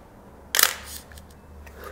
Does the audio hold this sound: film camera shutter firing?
yes